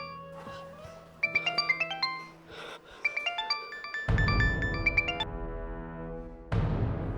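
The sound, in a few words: phone ringing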